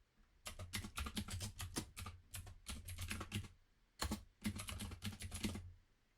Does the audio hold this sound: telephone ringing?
no